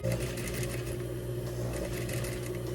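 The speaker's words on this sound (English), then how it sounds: "I'm going to sew up to where I started and then pull it out" Sewing machine stitching binding with right sides together, a steady close mechanical whir and rapid needle clatter running continuously without pause or voices.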